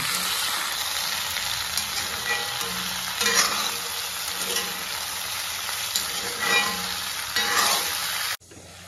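Brinjal and tomato cook in a pan with ginger, garlic and green chilli while a spoon stirs and mixes them, giving a continuous close sizzle with repeated scraping strokes that stops abruptly near the end.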